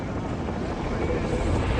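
Helicopter rotor and engine noise roars steadily and loudly throughout, with wind buffeting the microphone and no break in the dense, continuous drone.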